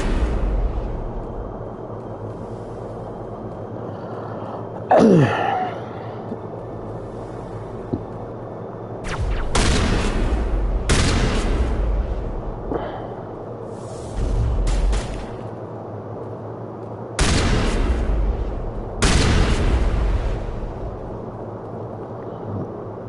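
Shotgun blasts from the video game Mass Effect Legendary Edition come as a series of loud, sharp booms spaced irregularly over combat ambience, with about half a dozen heavy shots.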